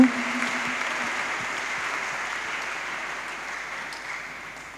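A church congregation claps steadily through a Sunday worship service, a dense, even wash of many hands that holds at a moderate level without pause from start to finish.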